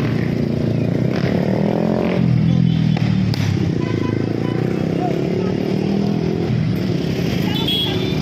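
A Honda Click motor scooter rides in a civic parade in Naga City during the 2023 Peñafrancia festivities. A close, steady engine hum runs under nearby voices and crowd bustle, with clattering in the background.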